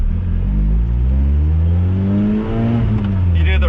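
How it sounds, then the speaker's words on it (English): Supercharged Lotus Exige engine heard from the cabin, loud and close, with revs climbing and dipping through a gearshift and a quick rev-matching blip near the end. "You do the rev matching, gives you that little blip of the supercharger"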